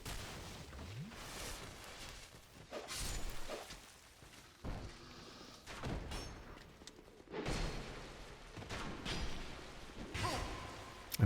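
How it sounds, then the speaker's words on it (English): Explosions going off in an explosive area of Dark Souls 2, several scattered booms and whooshing blasts at irregular intervals, moderately loud over a dim rumbling background. "I forgot that this was an explosion area."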